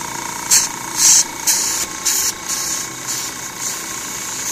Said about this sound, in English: Okay, compressor's turning on.